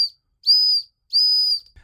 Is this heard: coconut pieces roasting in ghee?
no